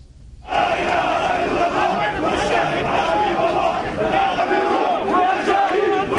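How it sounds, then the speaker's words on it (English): A large crowd in Jordan chants for revenge, a loud, dense roar of many voices shouting together in a steady rhythm at close range that continues without a break. "Crowds are chanting for revenge for the death."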